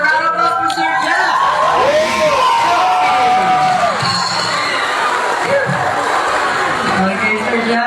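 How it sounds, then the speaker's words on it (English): A crowd at a sea lion show at Subic Bay cheers and claps after a sea lion named Sir Jeff finishes a challenge, with whoops and voices calling out over the continuous audience noise. "How about a round of applause for Sir Jeff?"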